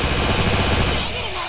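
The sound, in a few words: gunfire in the video game Free Fire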